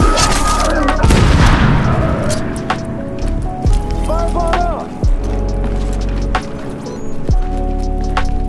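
Explosions in the video game The Division, several deep booming blasts spaced a second or two apart, one large burst early followed by sharper thumps, with someone talking over the action.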